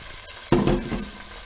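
Tomato and onion hit hot oxtail fat in a pan for Guatemalan stewed oxtail, setting off a sudden loud sizzle that crackles and then eases back into a steady frying hiss.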